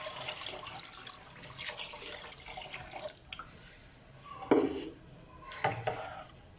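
Plain water poured into a lassi mixture for kadhi, a wet splashing in a pot with a couple of louder sloshes and faint clinks of utensils, no talking.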